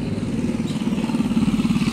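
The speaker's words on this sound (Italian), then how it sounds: "Ma che bel motorino!" Motor scooter engine in a city street in Vientiane, Laos, a close, steady mid-pitched putter with a rapid pulsing beat that builds slightly in loudness, heard alone without voices.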